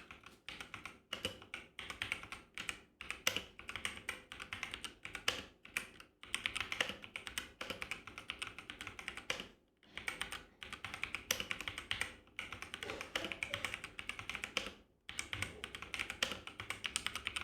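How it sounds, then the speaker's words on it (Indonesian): Fast, continuous typing on a Zifriend ZA 616 mechanical keyboard with red YH switches gives a close run of crisp key clacks. The typing pauses briefly now and then and is heard alone, with no talking. "Setelah ini akan dilakukan pengujian pengetikan menggunakan keyboard ini ya guys."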